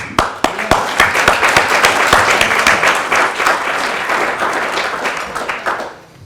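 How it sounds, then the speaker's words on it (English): Dinner guests at a Lions Club charter dinner break into loud applause after a few sharp early claps, then sustain dense clapping from a full room before it tapers off at the end. "let's give ourselves a round of applause"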